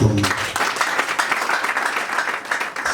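Rally crowd at a party mini-congress in Congo breaks into sustained, dense applause, loud and continuous throughout with a few faint voices mixed into the clapping.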